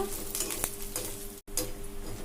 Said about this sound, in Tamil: இதில் வந்து கொஞ்சம் ட்ரை ஃப்ரூட்ஸ் சேர்த்துக்கலாம். சேர்த்துட்டு வறுத்துக்கலாங்க.